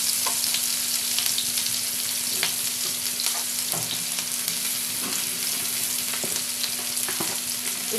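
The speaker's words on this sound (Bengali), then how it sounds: "পেঁয়াজগুলোকে একটু লাল লাল করে ভেজে নিতে হবে।" Large-cut onions fry in hot oil until reddish, a steady close sizzle running the whole time, with occasional light clicks of a spoon turning them in the pan.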